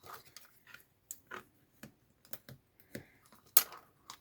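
A scoring tool is pressed along the corner of a sheet of paper, giving a quiet series of sparse, dry clicks and short scrapes at an uneven pace.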